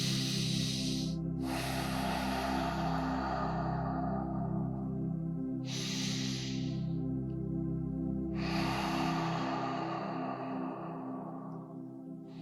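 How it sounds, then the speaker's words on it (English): Long, slow exhales during a yoga stretch, several drawn-out breathy rushes separated by short pauses, close and soft over a faint steady background hum, with no talk. "Let's go for 6 long exhales."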